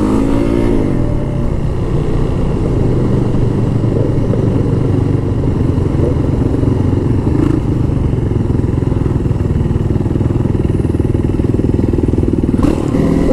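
Motorcycle engines rumble loudly and continuously on a group ride in Phoenix, Arizona, a close, dense roar with small shifts in revs and a brief clatter near the end.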